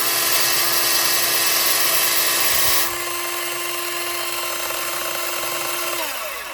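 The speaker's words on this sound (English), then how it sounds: "press it again to start it. And then I'm just going to file down all the bottoms." A handheld power tool files down the bottoms of resin teddy and piggy worry stone pendants, giving a loud, steady high-pitched grinding whine. Its pitch and load shift partway through, and it winds down at the end.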